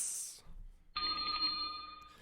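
A mobile phone ringtone cuts in abruptly after a brief hiss and silence, a steady electronic tone that rings on at moderate volume, alone with no talk over it.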